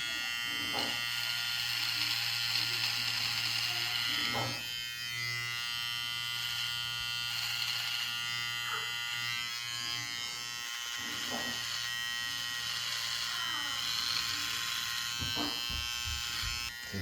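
An electric shaver buzzes steadily while a beard is shaved off, a close, continuous droning hum that shifts slightly as it moves over the face, with a voice talking over it.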